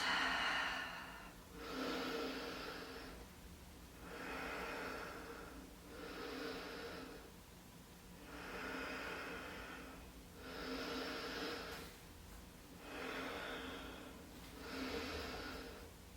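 Slow, deep breaths in child's pose during a power yoga session, about eight soft inhale and exhale cycles, close and quiet, with even pauses between them.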